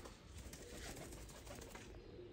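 Pigeons coo in a low, continuous warbling chorus, close and moderately quiet, with no talk over the calls.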